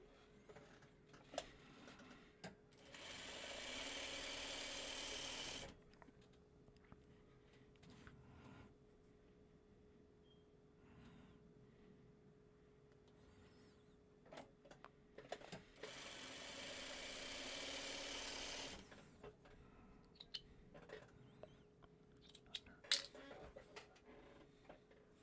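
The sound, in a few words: sewing machine sewing fabric right sides together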